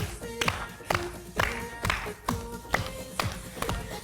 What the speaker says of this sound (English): Let me get some clapping